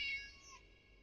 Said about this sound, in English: So you should meow when I hit you with this